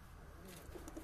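A pigeon in a loft gives a short, soft, low coo, faint and distant beneath a quiet background hiss.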